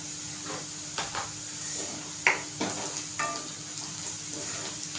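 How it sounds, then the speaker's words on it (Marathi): Onion and spices such as turmeric are sautéed in oil for kantoli bhaji, a low steady sizzle under a few stirring scrapes and clinks of a spoon on the pan, close by. "मस्त असं तेलात परतून घ्यायचं"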